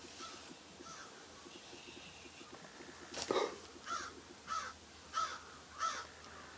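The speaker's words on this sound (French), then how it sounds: "Même les corbeaux ils rigolent." Crows cawing outdoors on a deserted island, a slow series of five or six harsh calls at moderate distance, following a faint chirpy bird background and a brief sharp knock.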